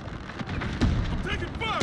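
Heavy gunfire and booming blasts in a Call of Duty: Modern Warfare Ground War match with a tank nearby, irregular loud bursts under radio-like game chatter and voices.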